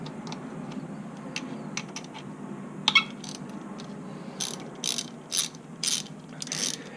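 Ratcheting clicks from a wrench removing bolts on the engine of a 2001 Jeep Cherokee XJ, heard as short close bursts of rapid clicking, sparse at first then in several quick runs toward the end.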